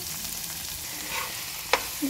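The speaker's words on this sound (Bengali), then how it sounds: "আস্তে আস্তে একটু ভাজা হোক" Chopped onions frying slowly in a pot with leftover fish-frying oil, a steady close sizzle with occasional stirring scrapes and one sharp clink near the end.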